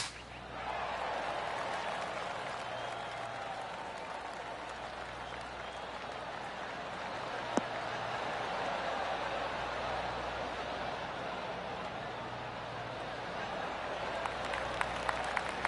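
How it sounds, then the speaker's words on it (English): Polite, muted golf clap from a small crowd at a golf event rises and holds for several seconds, a soft steady patter heard from a distance. "Oh, golf clap."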